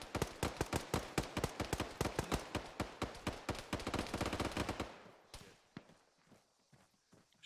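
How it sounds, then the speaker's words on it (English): Rapid gunfire in a training battle near a castle, a dense run of sharp close shots in quick bursts that stop abruptly about two-thirds through, leaving quieter scattered sounds afterward. "Shots coming from the east"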